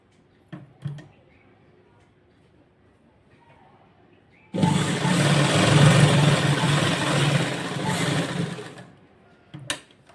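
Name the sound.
sewing machine stitching blouse cloth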